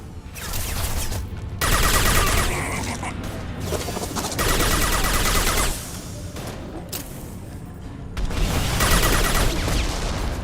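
Sustained video game gunfire comes in several long, heavy bursts of automatic shots separated by short lulls, loud and close with booms and clattering mechanisms mixed in.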